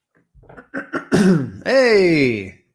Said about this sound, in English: Hey, I cleared my throat.